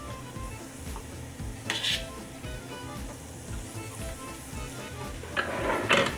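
Leeks and garlic cooking in a pot for Remy's soup, a soft steady sizzle with utensils scraping and clinking against the pot as it is stirred, a couple of louder metal knocks standing out.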